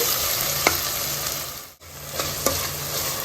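Tomatoes cook in a pan over a medium gas flame, giving a steady close sizzle with a few light stirring scrapes and a brief dip partway through.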